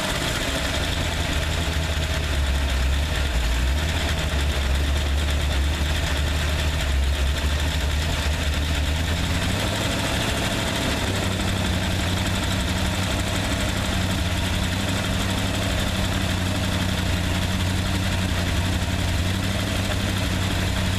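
A 302 engine, just fired up for the first time, idles steadily and loudly at close range with a constant low rumble and vibration, no one speaking.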